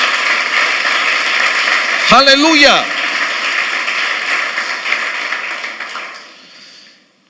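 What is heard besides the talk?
church congregation applauding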